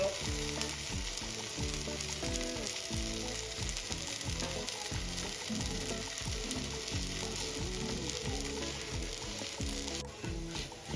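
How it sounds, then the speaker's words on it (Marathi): Rava uttapam frying on an oiled pan until golden, with a constant close sizzle and crackle that runs the whole time, no voices. "आलटून पलटून उत्तप्पा मी छान गोल्डन कलर येईपर्यंत भाजून घेतला"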